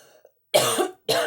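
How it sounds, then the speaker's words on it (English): Two harsh coughs close by, the first longer and the second short, separated by a brief pause. "whenever I sage my cards, it kind of makes me cough"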